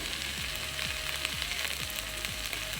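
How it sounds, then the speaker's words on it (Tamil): Potato, beans and fresh peas sauté in a pan, a soft, steady sizzle with faint scraping stir sounds and a low, repeating mechanical whir underneath. "இப்போது இந்த வெஜிடபிள்ஸ் எல்லாமே நல்லா வதக்கி விட்டுடலாம்."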